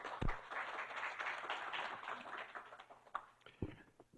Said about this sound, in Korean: 저희 다 함께 큰 박수로 이성호 센터장님을 맞아주시기 바랍니다